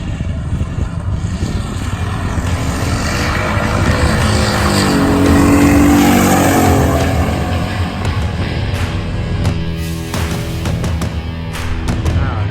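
A Datsun 280ZX engine accelerating under turbo boost, a loud sustained engine roar that rises through the revs and then eases off, with faint tire noise and no talking.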